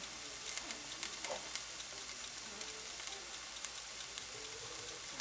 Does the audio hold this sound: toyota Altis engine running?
no